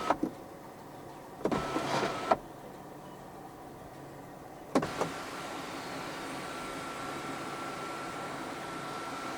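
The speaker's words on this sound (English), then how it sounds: "And you can even open up the sunroof as a vent." Electric sunroof on a 2021 Proton X50 1.5 TGDi, heard from inside the cabin: a short motor whir with clicks, then a second click that settles into a steady, fairly quiet hum.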